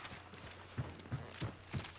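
Horse hooves in the game Hunt: Showdown clop in an even rhythm of about four steps, each landing roughly a third of a second apart over a constant ambient background.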